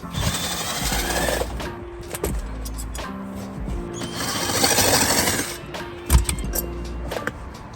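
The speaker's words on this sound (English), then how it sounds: "I believe they're T35s to take out these 2 bolts, and the carpet comes right out." A power tool whirs in close bursts while backing out T35 bolts that hold the carpet in a Z06 Corvette, with several start-stop runs and a sharp knock near the end.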